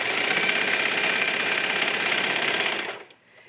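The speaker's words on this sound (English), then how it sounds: "Now let's take our pocket, and we can do this with the serger now" A serger stitches a pocket seam on jogger pants in a steady, fast buzzing whir for about three seconds, close by, then stops abruptly.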